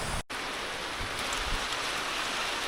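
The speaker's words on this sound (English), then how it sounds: "I didn't make it all the entrance of this place before it started downpouring." Heavy rain pouring down in a steady, dense hiss at a waterfall in Laos, loud and close with a brief dropout near the start and no talking.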